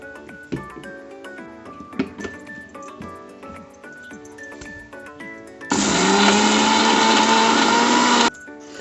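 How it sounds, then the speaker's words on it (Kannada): A mixer grinder whirs loudly for about two and a half seconds as it coarsely grinds niger seed chutney ingredients without water, following quieter clinks and kitchen clatter. "ಫಸ್ಟಿಗೆ ನೀರಿಲ್ಲದೆ ಹಾಗೆ ತರಿಯಾಗಿ ಗ್ರೈಂಡ್ ಮಾಡ್ಕೋಬೇಕು"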